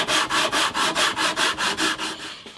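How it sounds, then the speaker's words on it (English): Paint being sanded off the wooden body of a vintage parlour guitar, heard as about ten steady, rhythmic back-and-forth rasping strokes, close and fairly loud, with no talking. "I'm going to sand it off, get all that paint off."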